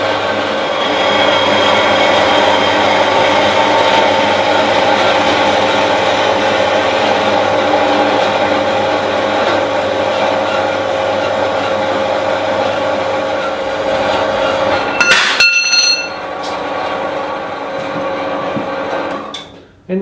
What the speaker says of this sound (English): And let's set the saw going.